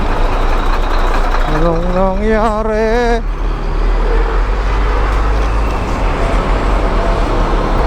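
Heavy trucks rumble through dense roadway traffic on a long ride from Bicol to Manila, with a steady loud engine drone, a rising horn-like tone in the middle and a person speaking briefly.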